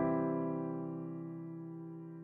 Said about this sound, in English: Major chord sounds something like this.